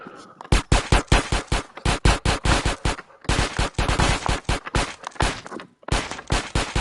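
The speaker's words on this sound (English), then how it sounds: "I decided to shoot one more bullet there, so I don't have to reload during shooting this one." Rapid gunshots in GTA San Andreas during a target-shooting challenge: loud, evenly spaced shots in three long bursts with brief pauses between them, no talk over them.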